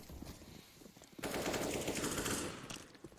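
Automatic gunfire from a Counter-Strike: Global Offensive match, rapid bursts at a DreamHack Open qualifier, starting faint then erupting into a loud, dense sustained volley for over a second before trailing off.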